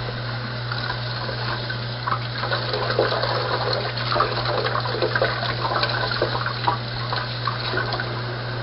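Running water rinses bleach solution off a hybrid striped bass being cleaned, a steady close wash of flowing water with splashy surges, unbroken throughout with no voices.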